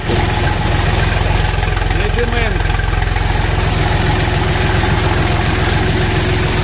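Mini tractor with a YD 385 engine running at a steady idle, loud and close with a constant rhythmic throb, while someone speaks briefly over it.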